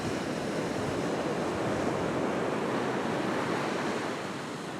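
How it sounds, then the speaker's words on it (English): Surf breaks continuously on busy Curl Curl Beach, a dense, steady wash of waves with wind buffeting the microphone, loud and close, with no voices. "It's a busy beach, this one"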